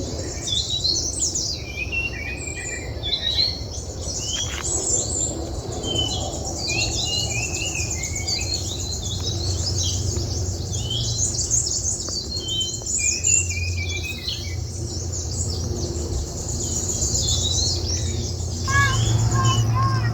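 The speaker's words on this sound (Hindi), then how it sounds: "अब मैं रुकता हूँ, आप सुनिए पक्षियों की आवाज़." Many birds chirp and trill steadily in the Pokhara valley of Nepal, a dense chorus of high calls over a soft outdoor background hum, with no voices over it.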